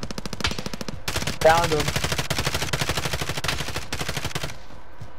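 Rapid automatic gunfire bursts in a multiplayer video game shooter, loud and near, firing in sustained rattling streams for most of the clip while a player briefly speaks over it.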